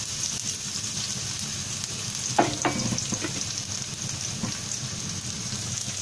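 Onions fry in oil with fennel seeds in a kadai, giving a steady crackling sizzle like light rain, with a few sharp clatters of stirring midway and no voices.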